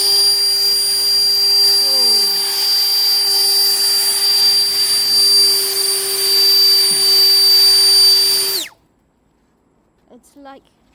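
A SAKER portable cordless dust cleaner and leaf blower runs with a loud, steady whine and high-pitched tonal hum, then cuts off abruptly, followed by a brief faint voice in the quiet.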